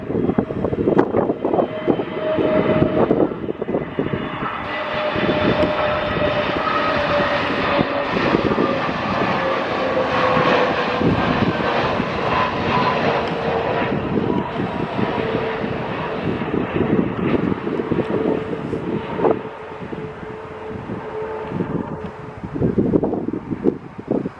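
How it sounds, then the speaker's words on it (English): A Scandinavian Airlines Airbus A320neo jet passes close by at Stockholm Arlanda in the early evening, a loud, steady engine roar with a slowly falling whine and wind buffeting the microphone throughout. "Scandinavian A320Neo."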